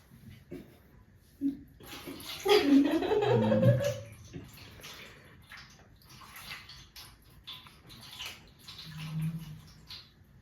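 Water splashes and pours in short bursts as feet are washed, with faint murmuring voices and quieter trickling afterward.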